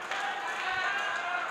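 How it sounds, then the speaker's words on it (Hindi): Dense, sustained applause from an audience at a political rally in India, a steady wash of many hands clapping together that carries evenly throughout. "एक बार जोरदार तालियां बजा दें जी"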